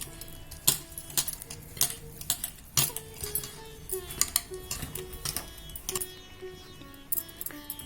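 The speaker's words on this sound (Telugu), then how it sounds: "ఇప్పుడు కొంచెం కొంచెం వేసుకుంటూ బియ్యం పిండి కలుపుకోవాలి" Rice flour stirred a little at a time into melted jaggery in a metal pan for bellam undrallu, with repeated clinks and scrapes of a spoon against the vessel in an uneven rhythm, close and moderately loud, no talking.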